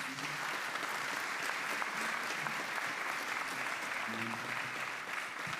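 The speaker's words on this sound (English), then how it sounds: "Would y'all give Stacy Wilson a big round of applause?" An audience at a real estate update gathering gives a warm round of applause, dense and even clapping holding steady throughout, with faint voices mixed underneath.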